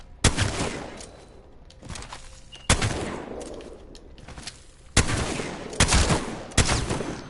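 A video game gun firing in bursts, with a faster fire rate than the Peacekeeper; about six sharp, loud shots spaced a second or two apart, each trailing into a decaying echo.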